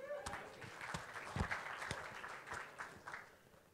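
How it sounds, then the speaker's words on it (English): Fairly quiet, scattered clapping from a small audience in a tech conference session room, with individual claps standing out and some murmured talk underneath. "A round of applause for Dan."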